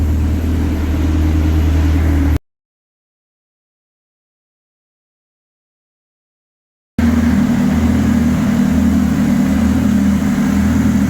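A built Honda Civic with a K24 engine drones steadily on a dyno in two loud, sustained stretches separated by a silent gap, the note holding with a pulsing, throbbing texture.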